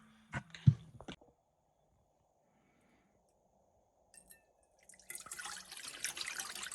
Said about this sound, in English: we're going to start by pouring the brown butter into my mixer